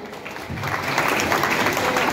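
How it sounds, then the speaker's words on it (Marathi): Applause from an audience at a World Cooperative Day gathering for Sachin Choudhary, a computer-course teacher, with steady clapping building and holding throughout. "सचिन चौधरी सरांसाठी जोरदार टाळ्या देऊया"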